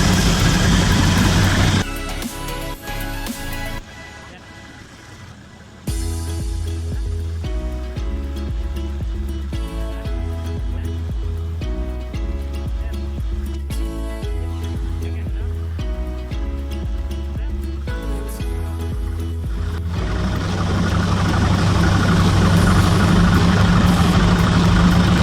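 A Mercruiser engine on a Mariah Z241 Davanti Magnum boat, running loud and close with a steady low rumble that drops briefly, then picks up again and rises as it is throttled toward the end, with voices partly over it.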